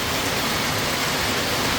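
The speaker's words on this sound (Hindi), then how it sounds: "बारिश जो है वो बहुत ज़ोरों से हो रही है।" Heavy stormy rain pours down in Abbottabad as a steady, dense, close-up hiss with no breaks and no voices.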